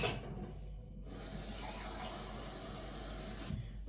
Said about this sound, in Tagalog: Of course, lalagyan din natin ng tubig.